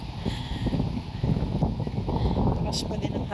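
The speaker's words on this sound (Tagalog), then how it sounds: "Lakas pa din ang hangin." Gusty wind roars across the microphone at a hillside campsite in Pangil, Laguna, a steady loud rush with people talking beneath it.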